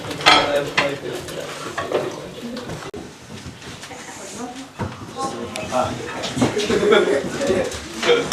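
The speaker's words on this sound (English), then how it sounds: "Stir these around a bit." Chips are stirred around a pan during a cooking class in Hampton Wick, London, with scraping and clinking of utensil on pan over a light sizzle while people talk.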